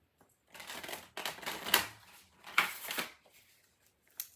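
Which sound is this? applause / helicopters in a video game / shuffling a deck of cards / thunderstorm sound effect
shuffling a deck of cards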